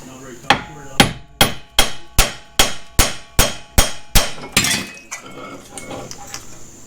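A hammer taps a suspension part loose on a 2006 Chevrolet Tahoe: about eleven sharp metallic strikes in an even, quick rhythm, close and loud, followed by faint rattling.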